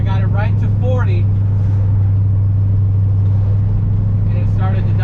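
A 1969 Plymouth Fury III engine running rough and nearly stalling, a loud low steady drone with an uneven idle, while a person talks over it at the start and end.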